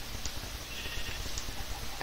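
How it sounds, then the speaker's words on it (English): A few short Minecraft sheep bleats, fairly faint, heard over a steady background hiss with no talking. "Ah, I hear the sheep."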